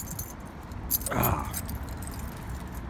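Keys jangle briefly at close range while a vehicle door is locked, with someone talking faintly around the sound.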